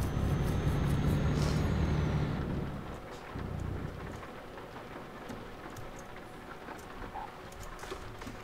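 Rain patters steadily on a vehicle while driving into Zürich, with a louder engine and road rumble that fades after a few seconds, leaving scattered drops ticking over a softer background hiss.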